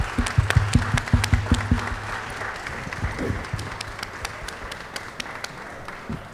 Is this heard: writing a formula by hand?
no